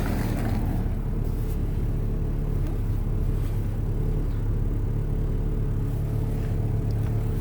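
A car engine idles steadily just after starting in snowy weather, a continuous low rumble with no revving, heard close and alone.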